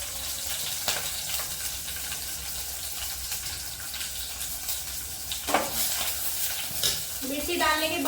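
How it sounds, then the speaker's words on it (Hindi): Chillies frying in very hot oil in a pan, a steady broadband sizzle throughout with occasional stirring scrapes and a brief splash of spattering near the end, fairly close, no talk. "फिर उसके बाद डालेंगे हम इसमें मिर्ची, ठीक है।"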